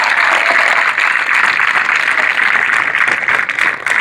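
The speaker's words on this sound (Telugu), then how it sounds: "బాలాజీ భవన్ పిల్లలు ఒకసారి గట్టిగా క్లాప్స్ కొట్టచ్చు" Children at a sports celebration give loud, dense applause, a sustained wash of clapping that carries on for several seconds without a break.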